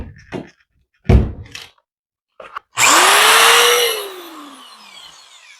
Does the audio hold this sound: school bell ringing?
no